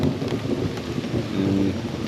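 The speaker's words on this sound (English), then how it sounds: "I wonder if the camera's picking up the thunder." Rainstorm in the Amazon jungle produces a steady, loud hiss of rain with a low rumble of thunder rolling underneath, no voices.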